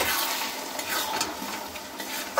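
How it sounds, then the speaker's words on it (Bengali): Ground drumstick leaves are stirred with reddish fried onions in a pan for a Bengali bharta, giving a close, continuous scraping and sizzle with faint clinks of utensil on metal. "দিয়ে দিচ্ছি বেটে রাখা সজনে শাকটা। এবার আমি নাড়াচাড়া করব।"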